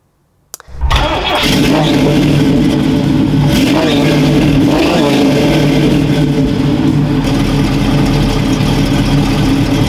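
A Chevrolet Camaro V8 with a Hookers stainless exhaust cranks and fires up, then settles into a loud, rumbling idle with deep throaty burble close by, some brief voices under it.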